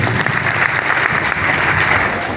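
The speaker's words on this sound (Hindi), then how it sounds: "संचालनकर्ता महोदय जी के सम्मान में एक बार दिल की गहराई से जोरदार तालियां हो जाए" Loud, dense applause from a large audience at a meeting, a continuous wash of many hands clapping at once, sustained and even without pause.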